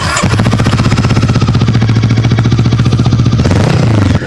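Brixton Crossfire 500 motorcycle with a 486cc liquid-cooled twin-cylinder engine, running loud and close with a steady, even, pulsing throb that holds for several seconds before dropping off at the end.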